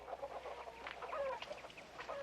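Chickens cluck softly around a hen house, a faint continuous murmur of fowl calls at a distance with no talk.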